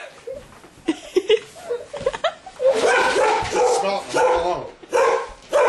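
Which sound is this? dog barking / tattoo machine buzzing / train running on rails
dog barking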